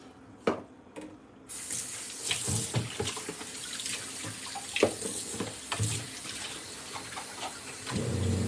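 Tap water runs steadily into a kitchen sink while vegetables are washed for a stir fry, with close splashing and occasional clatter of produce and dishes against the basin.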